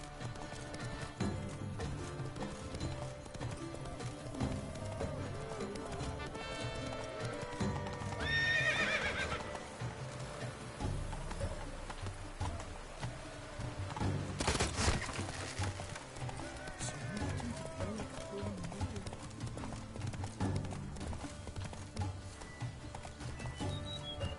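Roach the horse galloping in The Witcher 3, a continuous rapid clip-clop of hooves under game ambience, with a neigh breaking through midway; steady, moderately close rhythm throughout.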